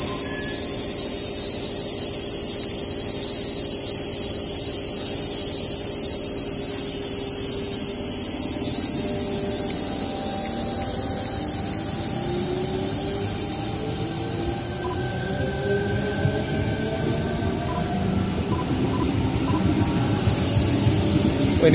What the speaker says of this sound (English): Tangara, now departing.